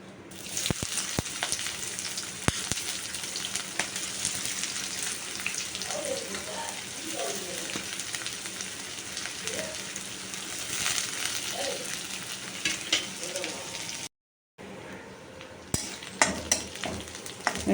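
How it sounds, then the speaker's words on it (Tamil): Onions sauté in hot oil in a pan, with a steady, close sizzle and occasional stirring scrapes over about eighteen seconds, broken by a brief dropout near the end. "வெங்காயம் நல்லா வதங்கிடுச்சுங்க."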